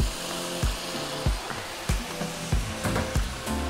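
Hot pan of bacon and mushrooms for creamy pasta hissing steadily on high heat after vodka is poured in, with rhythmic soft knocks of a utensil or pan recurring every half second, close by.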